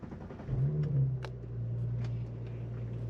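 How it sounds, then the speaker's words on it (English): An Audi B9 S4 with a transmission mount insert pulls away, its engine note rising in a brief low rev before settling into a steady drone, heard from inside the car at moderate volume without talk. "All right, let's go for a ride."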